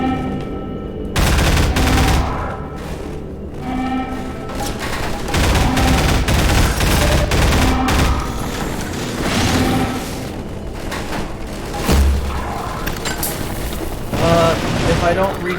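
Rapid gunfire crackles through a firefight in Half-Life 2: Episode Two, with loud repeated bursts and sharp shots filling most of the stretch and brief pauses between volleys.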